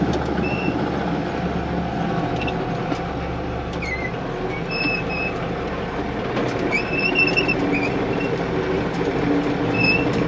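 An old John Deere 6588 tractor runs steadily while baling hay, its low engine drone continuous and fairly close, with faint mechanical clatter and occasional higher whines over the rumble.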